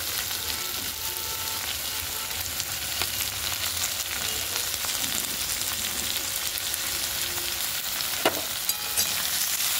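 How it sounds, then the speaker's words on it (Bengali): Sliced potatoes and onions fry in hot oil in a pan, a continuous close sizzle with occasional stirring scrapes and a sharp clink near the end, no talking. "আলুটা হালকা ভাজা ভাজা হয়ে গেছে, এর মধ্যে আমি পেঁয়াজ অ্যাড করে দিচ্ছি।"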